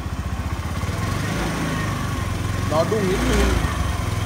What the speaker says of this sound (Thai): เดี๋ยวลองสตาร์ทฟังเสียงชึกๆกันหน่อย